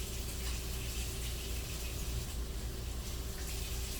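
Hot tap water runs over a cutting board being washed with soap, a steady close splashing stream without pause or talk.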